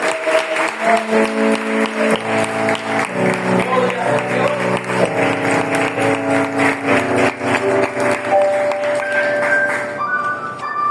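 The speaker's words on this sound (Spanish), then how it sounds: "Den un aplauso al Señor." A church congregation claps at a Sunday service, the steady rhythmic claps sitting under loud sustained keyboard music that carries through the whole stretch.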